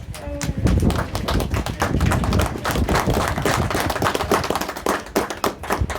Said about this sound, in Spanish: ¿Alguien puede dar aplausos al Señor Jesús?